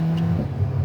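Alpine A110 R sports car on a winding mountain road, its engine holding a steady low drone up close with a slight swell toward the end, no voices.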